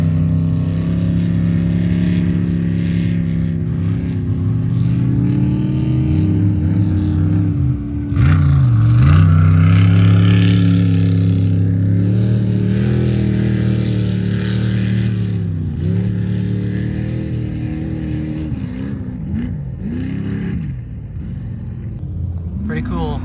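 Off-road race cars pre-running in the desert at King of the Hammers, a loud, sustained engine drone with rising and falling revs as vehicles accelerate and pass, with a person talking over it throughout.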